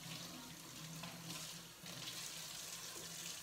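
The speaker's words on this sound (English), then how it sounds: "I'm just gonna wash my hands really quick." Tap water runs steadily into a sink while hands are washed under it in a home kitchen, a continuous close hiss and splash with small shifts in the flow and no talking.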